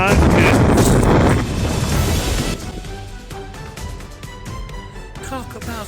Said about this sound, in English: Talk about some wind.